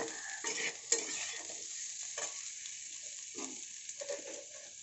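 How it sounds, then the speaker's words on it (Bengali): Potatoes and vegetable stalks fry in a pan for a poppy-seed dish, giving a soft steady sizzle with a few stirring scrapes, close but fairly quiet, with no talk. "এখানে আমি আলু আর ডাঁটাটাকে বেশ ভালো করে ভেজে নিয়েছি"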